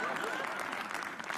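Steady applause from a live roast-show audience greeting comedian Chirag Panjwani, a dense even patter of clapping filling the room with no break.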